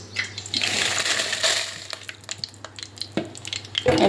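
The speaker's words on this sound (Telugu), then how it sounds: "ఇందులోనేమో గోంగూర వేయిస్తాను ఇందులో వచ్చేసి ఎండుమిర్చి వేయిస్తానండి" Gongura leaves and dried red chillies frying in oil in a pan, with a soft sizzle under scattered stirring scrapes and light clinks from a utensil, close and moderately loud, with no talking.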